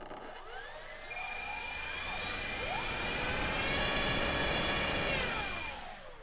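The electric motor and propeller of an FMS F4U-4 Corsair RC model plane, a small one-pound model, whine up steadily as the throttle rises, rising in pitch and loudness before easing slightly, heard close and alone.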